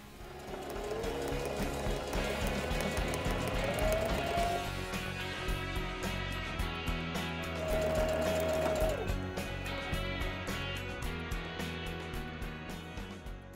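A sewing machine stitches a quarter-inch side seam on a roll-top dry bag, a continuous fast mechanical whir over about thirteen seconds, joined partway through by a steady tonal hum of background music.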